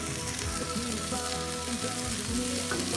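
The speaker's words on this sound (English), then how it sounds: "We got our Irish butter and our chopped peppers and onions. And we're gonna throw those on the grill." Chopped peppers and onions sizzle in Irish butter on a hot grill, a continuous close frying crackle with no voices.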